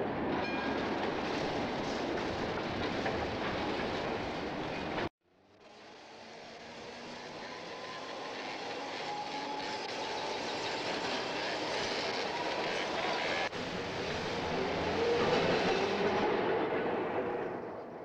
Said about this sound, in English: These bogey cars are rebuilds of the 1928-30 Peter Witt cars